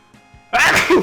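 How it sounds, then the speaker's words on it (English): After a faint breathy intake, a single loud, sharp sneeze bursts out close to the microphone, ending abruptly. "Having a heck of a sneezing time lately"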